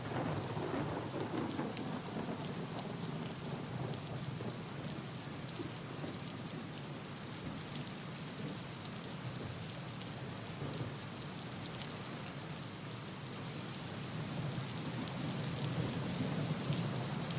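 Heavy monsoon rain pours steadily in Kolhapur, Maharashtra, a dense continuous hiss of rainfall on surfaces with a low rolling rumble of thunder beneath, heard alone without voices.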